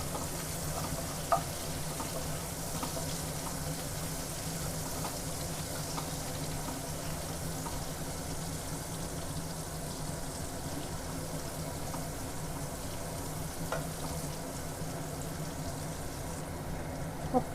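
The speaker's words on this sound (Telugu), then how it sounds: "పచ్చిమిర్చి 3 పచ్చిమిర్చి తీసుకున్నాను. ఇలా మంచిగా ఫ్రై చేసుకోవాలి." Three green chillies frying in oil in a pan, a steady soft sizzle running throughout with faint occasional clinks, close and quiet with no voices.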